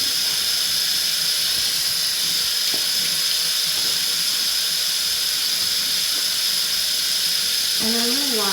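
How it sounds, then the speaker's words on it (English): Water runs steadily from a sink tap turned on hot for hand washing, a constant loud splashing hiss that carries on throughout with no talking. "I'm gonna take a piece of paper towel to turn the water on"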